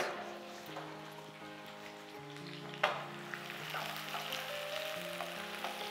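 Sliced onions fry in hot cooking oil for a Nawabi korma, a steady close sizzle with occasional louder pops, set against sustained tonal background sound.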